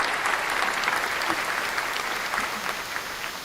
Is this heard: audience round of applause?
yes